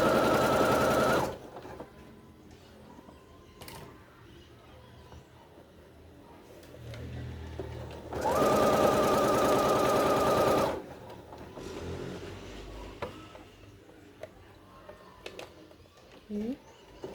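A sewing machine runs in two bursts, one at the start and a longer run midway, stitching a French seam on a fabric cushion cover, with someone talking between the runs.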